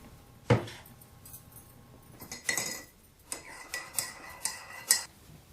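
A hot drink being made: cups and a spoon clink and chink in a string of sharp, close, moderately loud taps and stirs, with no talking.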